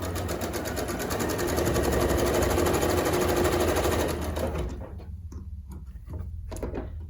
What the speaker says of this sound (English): you can just chain piece and sew 1 background square on one corner of each one